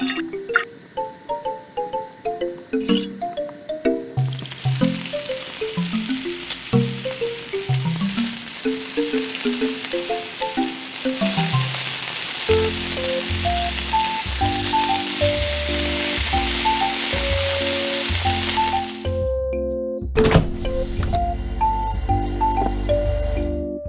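Cooking oil heating in a tiny toy frying pan for a miniature chicken burger hisses with a broad, steady sizzle in the middle stretch, set under prominent plucked background music.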